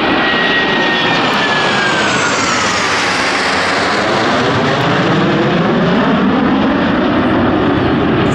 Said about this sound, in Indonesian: Widih, ada pesawat terbang.